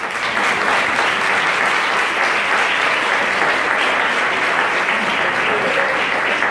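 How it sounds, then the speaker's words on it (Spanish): An audience at a stage show applauds loudly and steadily, with a dense wash of clapping that holds throughout. "quiero que con otro gran aplauso recibamos a Imanol Arias"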